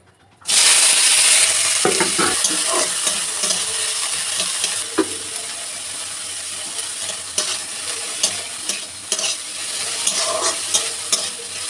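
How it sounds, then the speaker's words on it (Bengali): Onion, tomato and green chilli frying in a pan for an egg bhurji, a loud continuous sizzle with repeated scraping stirs and clicks of the spatula. "পেঁয়াজ টমেটো লঙ্কাটা একটু ভাজা ভাজা করে নিচ্ছি হালকা"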